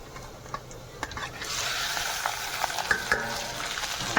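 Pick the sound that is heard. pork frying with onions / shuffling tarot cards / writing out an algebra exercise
pork frying with onions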